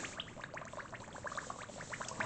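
An airbrush is back flushed during cleaning, with the nozzle cap blocked so air bubbles back through the color cup, giving a soft continuous gurgling, bubbling hiss, close and steady with no talk.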